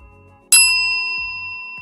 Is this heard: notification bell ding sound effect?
yes